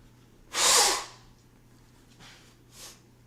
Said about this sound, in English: I gotta blow my nose because it's really distracting me.